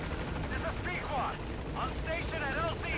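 Helicopter rotor chop from Metal Gear Solid V: The Phantom Pain, a steady mid-distance whir with rhythmic high blade flutter running under the game's background sound throughout.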